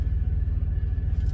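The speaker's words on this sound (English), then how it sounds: "We are now getting some thunder and lightning" Deep, continuous rumble of thunder during a high wind storm with gusts near 80 mph, heavy and low with a slight pulsing swell, filling the short stretch without any voices.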